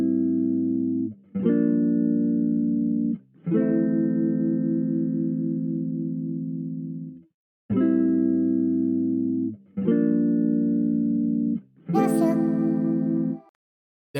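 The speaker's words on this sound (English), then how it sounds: "Okay, then I got a guitar from Arcade." Synth-like guitar patch from the Output Arcade sample plugin, playing sustained harmonic chord stabs in separated phrases of varying length, loud and clean with no talking.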